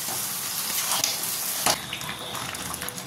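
Mutton being sautéed in a pan while a spatula stirs it: steady close hiss and sizzle with a couple of sharper scraping knocks from the spatula.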